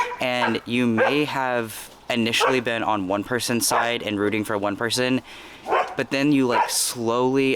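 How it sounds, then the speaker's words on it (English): Dogs barking in a home, repeated yips and barks breaking through close, steady conversational talk throughout. "I'm sorry about the dogs, but hopefully it's not that loud on y'all's end."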